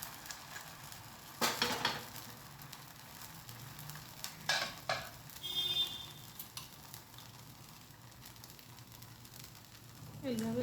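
Rice dosa batter fries in oil on a pan over low heat with a soft, continuous sizzle, broken by a few sharp clinks and scrapes of a utensil against the pan.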